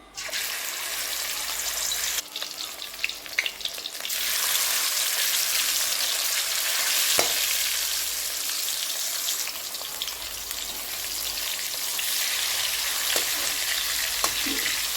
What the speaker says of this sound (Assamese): তেলখিনি গৰম হৈ গৈছে, এতিয়া মাছ কেইপিচ দি ভাজি ল'ম।